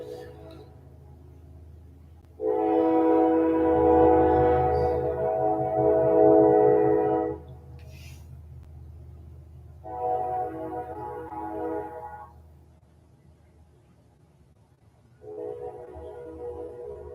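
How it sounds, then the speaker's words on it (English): A passing train sounds its horn in three separate blasts, a long one, a shorter one and a final one, heard from a distance over a low rumble of the train. "Gotta love the train."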